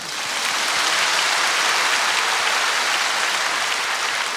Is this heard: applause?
yes